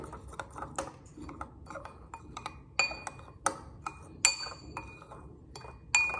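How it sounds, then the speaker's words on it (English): Repeated clinks of a utensil against a glass bowl as seasonings are stirred together, bright sharp ticks in an irregular rhythm, close and fairly quiet. "I just want to mix up the seasonings real good so everything's evenly distributed"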